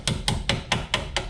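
A hammer strikes brake pad pins to seat them on a BMW E21 320i during a brake job, six quick, even metallic taps in steady rhythm, close and crisp.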